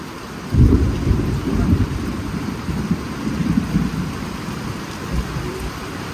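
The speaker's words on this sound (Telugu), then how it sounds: "వర్షం గట్టిగా పడుతుంది" Heavy rain pouring down at a beach in Goa, with a deep, rumbling low roar that swells and surges throughout, loud and continuous, no voices.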